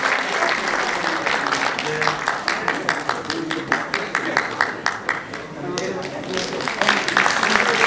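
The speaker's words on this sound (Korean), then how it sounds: "이런 박수로 서병수 위원님을 환영해 주시면 대단히 좋겠습니다." An audience at a Korean politician's book launch event claps for a speaker, with steady rhythmic applause that swells and dips over several seconds.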